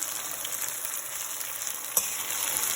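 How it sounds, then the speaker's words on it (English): Turmeric is stirred into cauliflower frying for a gobi stir fry, an even, moderately loud frying hiss with one sharp utensil click near the end and no speech. "Now I'm going to add 2 teaspoons of turmeric powder. Give it a stir."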